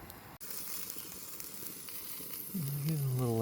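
A 1 lb T-bone steak sizzles steadily over an outdoor fire pit oven, a soft continuous hiss and crackle, joined near the end by a rising tonal whine.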